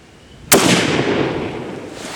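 A single 7.62x54R rifle shot fired outdoors, one sharp loud crack followed by a long fading rumble and echo, with no talking.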